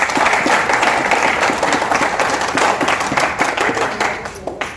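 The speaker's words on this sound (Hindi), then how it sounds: "जोरदार ताली सर के लिए एक बार।" An audience at a meeting in a hotel hall in Raigarh breaks into loud, sustained applause, dense clapping from many hands continuing for several seconds before tapering slightly.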